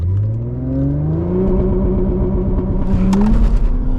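Stage 2 Audi S4 launching hard and pulling through the gears, engine note rising in pitch with audible shift breaks, loud and close from inside the cabin, with a brief clatter near the end.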